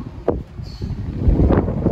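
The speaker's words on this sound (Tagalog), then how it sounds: "Ayan, lakas ng hangin." Strong wind buffets the microphone in a steady, rumbling roar, with a few sharper gusts, under an overcast sky at a pigeon loft in the Philippines.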